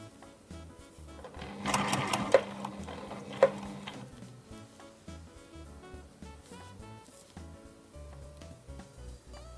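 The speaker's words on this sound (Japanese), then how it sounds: "ここまで縫います。" A sewing machine stitches fabric for a dog torso form, a short burst of rapid mechanical whirring near the start, then quieter handling ticks and clicks nearby.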